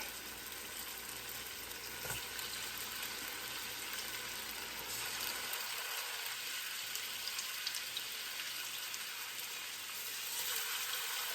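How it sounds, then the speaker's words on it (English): Diced bone-in spare ribs fry in a pan with a steady, close hiss and crackle that fills the whole stretch, briefly easing midway, with no one talking. "So we're just gonna go ahead and begin to fry these little diced pieces."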